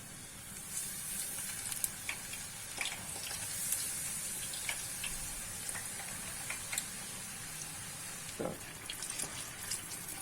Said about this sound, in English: Now we will fry the eggplant with the frying oil until it's become golden color.